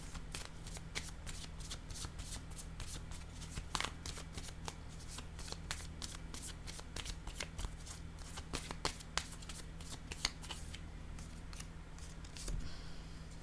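Tarot cards are shuffled, slid and laid down close up in a long run of crisp rapid flicks and soft slaps, quiet and dry over a faint low hum, with no voices.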